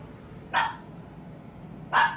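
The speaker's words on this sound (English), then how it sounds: "My dog just started barking for no reason." A dog gives two sharp barks about a second and a half apart, heard alone at moderate distance inside a quiet house at night.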